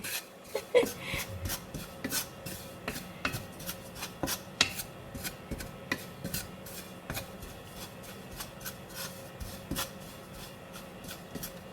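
Toasted coconut paste (kerisik) stirred in a pot as it starts to burn at the bottom: steady scraping and rasping of a utensil against the pot, with irregular louder scrapes throughout and no talking.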